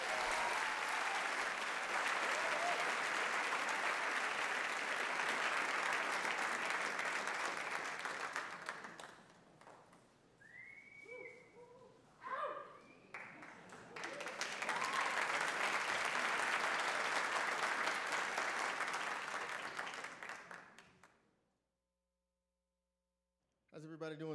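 A live audience at a Hall of Fame event applauds to welcome Jack Ross to the stage, loud sustained clapping that thins briefly amid cheers and voices, swells again, then fades to silence.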